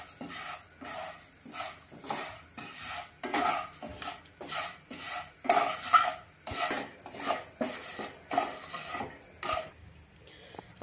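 Vermicelli is roasted to golden in a pan while being stirred constantly, making repeated rhythmic scraping and clinking of a spatula against metal, moderately loud and close, with brief pauses between strokes.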